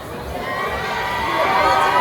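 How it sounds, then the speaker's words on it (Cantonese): A crowd at a Hong Kong film premiere for Night King applauds and cheers in a continuous, fairly loud wash of clapping, rising slightly toward the end. "我哋謝大家熱烈掌聲"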